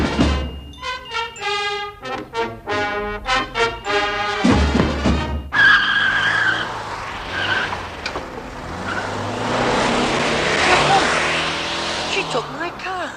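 A car drives off with its tires squealing into a long, loud screech. The engine roars through it, after an opening stretch of voices.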